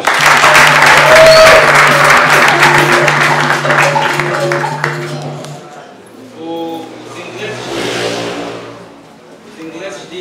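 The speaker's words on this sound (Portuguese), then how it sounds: "Mais uma salva de palmas." An audience at a capoeira graduation ceremony applauds, a dense burst of clapping that thins out after several seconds, with voices and a sustained musical tone alongside and talk following.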